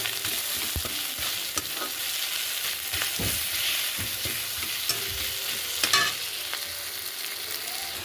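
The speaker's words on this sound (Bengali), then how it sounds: "টমেটোগুলো গলে গেছে, সুন্দর করে ভেজে নিয়েছি" Salted tomatoes frying and breaking down in a pan for a gurjali fish curry, a close, steady sizzle with scraping stir strokes throughout; no talk.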